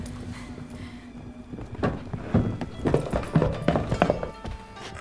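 Hoofbeats of a horse in The Witcher 3 video game clatter in an irregular run, mid-distance amid thuds and background game sounds.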